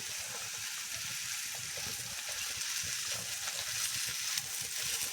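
Crispy okra fries on a hot iron tawa over a village wood-fired chulha, giving a steady close sizzle with small crackles that holds at an even level from start to finish, with no one speaking.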